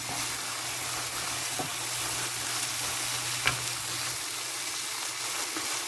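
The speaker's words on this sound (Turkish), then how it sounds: "diğer tavanda da patlıcanlarımı kızartıyorum" Steady, soft sizzling of eggplants frying in a pan, a continuous crackly hiss with a couple of faint clinks, no voices.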